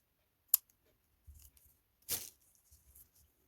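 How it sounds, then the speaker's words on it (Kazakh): Scissors snip through crochet yarn, two sharp, quiet cuts about a second and a half apart, with soft handling rustles in between and no talk. "Енді осы жіпті қаттырақ тартып қиып тастасақ болады."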